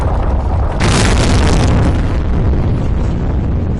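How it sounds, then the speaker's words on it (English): A building collapses in the video game Disaster Report 4 with a loud, deep booming rumble that surges about a second in and keeps roaring as a dense, continuous crash of debris. "Now the building will collapse."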